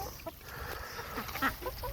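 A hen clucks in an outdoor yard where chickens and ducks are being fed, soft irregular clucks scattered over a steady noisy background, with no talking.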